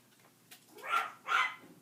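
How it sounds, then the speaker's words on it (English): Dogs barking in the background indoors, two distinct barks in quick succession, moderately faint and unaccompanied by talk. "And the dogs are going at it again"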